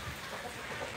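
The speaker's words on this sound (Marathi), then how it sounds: "कंटिन्यू पाऊस सुरू आहे संततधार." Steady, continuous heavy rain falling outside a farm shed in muddy conditions, a dense even wash of patter with no voices.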